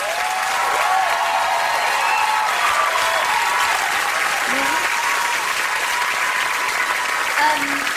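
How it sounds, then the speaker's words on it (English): Studio audience on The Xtra Factor results show breaks into sustained, loud applause with cheering, steady throughout and a voice briefly heard over it. "a massive round of applause for Laura, please"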